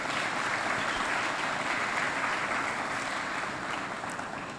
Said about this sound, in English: Let us give our students a round of applause.